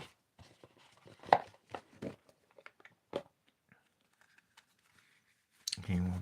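Mary Mother oracle cards being shuffled by hand: scattered soft clicks and taps of card stock, with a louder flurry of shuffling near the end, close and fairly quiet.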